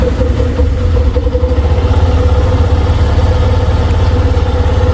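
A motorcycle engine runs with a throbbing low idle, steady and close, after being started on the self-starter with the throttle held 5 to 10% open on ethanol-blended E20 fuel; no one talks.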